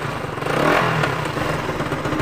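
A Suzuki Rider 150 motorcycle engine keeps running after its key is pulled out, giving a steady, close idling rumble with a slight rise in revs, heard alone.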